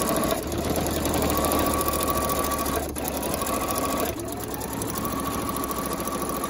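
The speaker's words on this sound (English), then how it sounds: "now you're going to sew down the top edge" A sewing machine runs steadily, stitching down the folded top edge of a plastic feed bag being made into a reusable grocery bag, with a close, continuous motor hum and needle chatter broken by two brief pauses.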